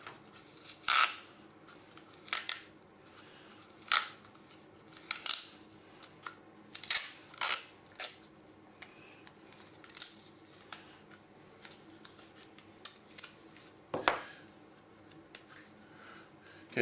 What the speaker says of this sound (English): take your scissors and cut down the tube to where it's taped off at least 3 times.